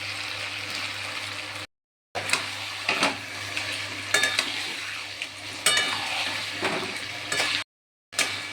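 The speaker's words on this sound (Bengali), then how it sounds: "মশলার সাথে শাকটা ভালো করে কষিয়ে নেব।" Boiled taro greens with soaked chickpeas and spices being sautéed and stirred in a pan, a steady soft sizzle broken by scraping spatula strokes and a couple of brief silent gaps.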